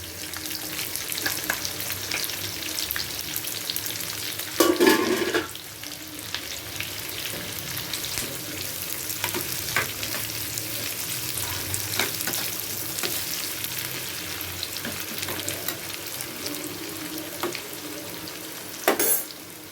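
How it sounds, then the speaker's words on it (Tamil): Onions with cumin and a little mustard seed sizzle steadily in hot oil in a pan, a loud continuous frying hiss with brief stirring clatters near five seconds and again at the end. "வெங்காயம் கொஞ்சம் செவந்து வரணும் வாசனைக்கு"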